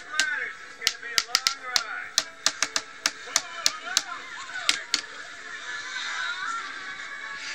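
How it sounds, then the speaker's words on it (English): Knocking on a garbage can, a dozen or so sharp hollow raps in an uneven rhythm, close and loud, followed by quieter rustling. "Maybe if I knock on this thing,"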